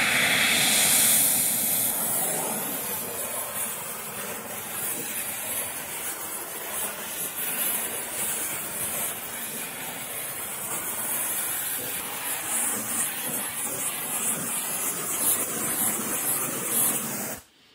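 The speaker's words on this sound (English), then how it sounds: "Then I'll use a neutral flame to burn that soot off." A neutral torch flame roars steadily and loudly while burning a light soot coating off half-hard sheet metal during annealing for a curvy seat side, a continuous broadband hiss with no talk.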